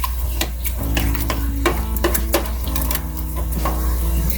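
A spoon stirs thawing cream cheese and Rotel in a pot, with repeated scraping strokes and soft wet squelches against a steady background hum, close and fairly loud.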